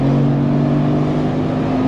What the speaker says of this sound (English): Let's go, let's give it some throttle.